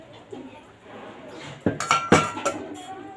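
Metal pots and utensils clink and clatter in a home kitchen while buttermilk rasam is being prepared, a few sharp close knocks and rattles toward the end over a low background hum.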